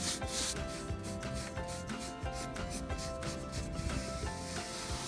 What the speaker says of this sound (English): I've got my brush and I'm just kind of putting it on here